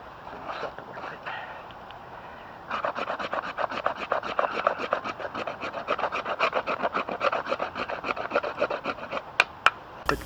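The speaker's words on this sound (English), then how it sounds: "Take some shavings from this also." Knife blade shaving curls off a resin-rich pine fatwood stump, a steady run of rapid rasping strokes close by, starting softly then growing denser and louder, with a few sharp clicks near the end.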